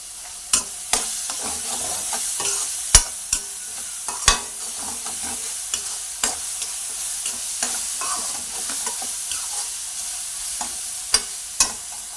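Onions frying with salt in a pan give a steady bright sizzle throughout, broken by frequent sharp clicks and scrapes of stirring, close and with no voices.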